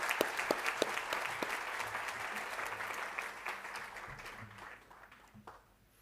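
Audience applause at a provincial school awards ceremony, a steady round of clapping from many people in a hall that gradually fades out.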